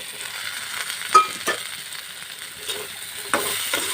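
Pre-fried fish and onions being stirred in a pan, a soft continuous sizzle broken by a handful of sharp spatula scrapes and knocks, no talking.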